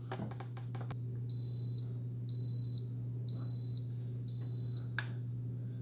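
Four evenly spaced electronic beeps, each a short double-toned chirp, from a Cuisinart SS-12 Coffee Center coffee maker, sound over a steady low hum, preceded by a few soft clicks.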